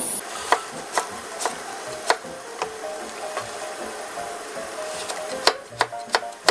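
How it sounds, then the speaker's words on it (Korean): A knife julienning cucumber finely on a cutting board for jjolmyeon: crisp, sharp taps come in an uneven rhythm, close and fairly quiet, with no one talking. "오이도 채를 곱게 썰어주세요"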